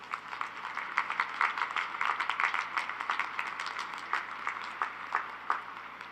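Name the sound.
applause for commencement speaker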